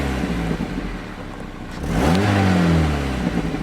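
A cheap old car engine being turned into a race car idles roughly, then revs up with a rising roar that holds briefly before easing back toward idle.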